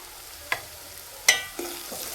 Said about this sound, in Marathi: छान कडक फोडणी करायची जेणेकरून आपले बेसन छान लागेल